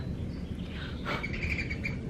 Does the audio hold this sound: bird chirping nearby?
yes